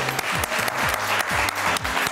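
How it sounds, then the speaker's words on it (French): Studio audience applause on a French TV talent show, dense continuous clapping that fills the whole stretch under a rhythmic musical backing. "Tout simplement, allez, on les applaudit."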